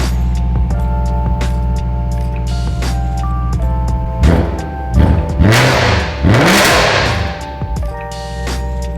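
A BMW E92 M3 just back running after a wiring repair revs up several times in quick blips, loud and close, over a steady idle with a faint intermittent electronic beeping.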